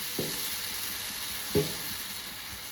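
Rice flour batter for jeerakappam sizzles on an oiled tawa, a steady soft hiss punctuated by two light taps of a ladle, close and fairly quiet with nobody talking.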